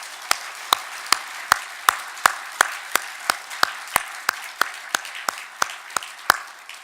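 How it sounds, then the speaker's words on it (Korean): A church congregation at a Christmas service claps in a steady, evenly spaced rhythm, with sharp single claps arriving about three per second against a quiet background. "우리 하나님께 영광의 박수를 올려드리겠습니다."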